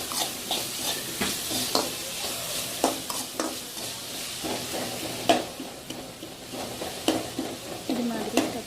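Salted tomatoes sauté in a pan for masala idli, with a continuous sizzle broken by repeated rhythmic scrapes and knocks of a spatula stirring and pressing.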